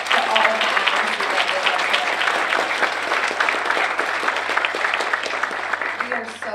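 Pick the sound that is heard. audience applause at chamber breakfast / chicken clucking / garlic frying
audience applause at chamber breakfast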